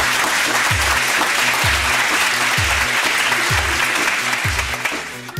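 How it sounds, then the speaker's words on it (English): A large church congregation claps loudly and continuously, the applause sustained at full strength before tapering slightly at the end. "Let's give our Lord a big round of applause."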